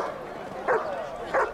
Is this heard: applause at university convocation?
no